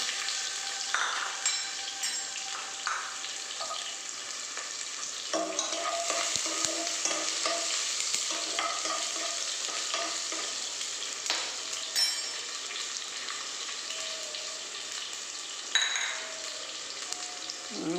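Onions dropped into hot oil with popping mustard seeds, a steady close sizzle with occasional clinks and scrapes of a spoon against the pan, no voices.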